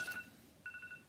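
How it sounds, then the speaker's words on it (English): A phone alarm beeps twice, a short electronic tone, quiet and close, with a brief pause between the two bursts. "that's my alarm going off"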